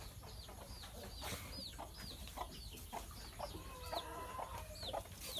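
Chickens in a coop cluck and chirp repeatedly at moderate distance, several birds calling in short bursts over a steady background hum.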